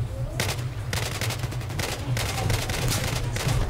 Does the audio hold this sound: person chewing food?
no